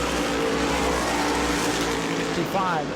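Race cars running in a pack at the New Smyrna World Series, a loud continuous engine roar throughout, with a commentator talking over it.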